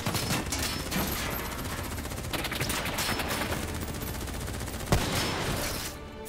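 Rapid automatic gunfire in Call of Duty Black Ops 3, dense sustained bursts of shots with one sharper crack near the end, loud and continuous without speech.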